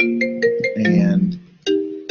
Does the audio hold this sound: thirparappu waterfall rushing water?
no